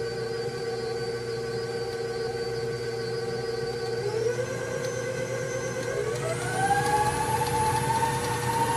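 A close, steady electric mixer whirs through lemon pound cake batter, then steps up twice to a higher-pitched whine as it bursts to high speed.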